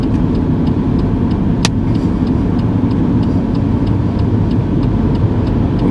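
A car accelerates on the motorway during a driving lesson, with a loud, steady engine and road roar heard from inside the cabin and a faint rhythmic ticking over it.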